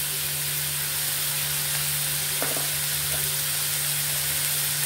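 Onions frying in a pan with a little salt for an egg and green chilli curry, giving a steady close sizzle and hiss with a faint stirring scrape partway through and a constant low hum underneath.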